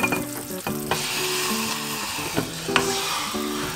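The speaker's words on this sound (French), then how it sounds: "on arrête tout de suite notre sucre, qu'on le plonge la casserole là-dedans" Continuous sizzling and hissing as a hot saucepan of cooked sugar is plunged into water, with several sharp clinks and knocks of the pan scattered throughout.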